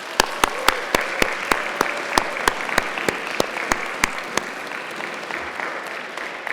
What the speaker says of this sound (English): So let's give all the poets who read tonight a big round of applause.